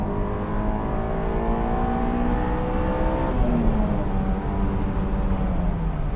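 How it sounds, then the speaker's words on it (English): A Honda S2000 AP1 engine revs up and down through downshifts from inside the moving car, a loud, steady, buzzy drone with rising and falling pitch and no talk. "Downshifting, so fun."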